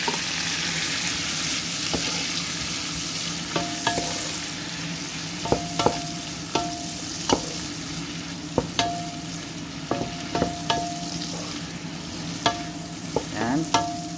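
Ginger, onions and tomatoes sauté for batchoy in a hot pan, a steady sizzle broken by frequent scraping and tapping of a spatula against the pan, close and with no talking.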